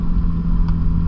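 A manual stick shift car's engine rumbles low and steady, close by, as the car pulls away, with a brief higher click partway through.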